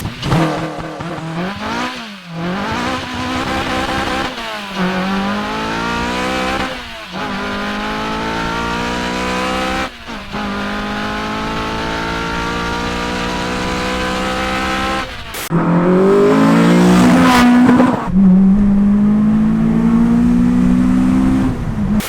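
K24-swapped Honda Civic FD2 Type R launching with launch control, a loud four-cylinder engine revving and climbing through gears, with rising pitch sweeps, brief lifts at shifts and a louder final pull.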